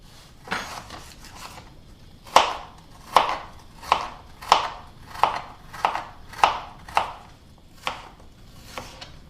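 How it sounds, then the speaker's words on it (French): A knife cutting an apple into small pieces on a board, about a dozen crisp, evenly paced chops close up, with no talk. "J'enlève bien sûr le trognon et ensuite je vais la couper en petits morceaux."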